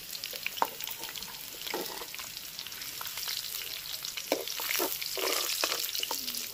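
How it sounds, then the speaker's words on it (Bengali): Potatoes deep-fry in hot oil in a village-style kitchen, giving a steady, close crackling sizzle with bursts of popping that swell slightly toward the end. "ছাকা তেলে আলু ভাজা দেখো একদম কড়া কড়া হয়ে গেছে"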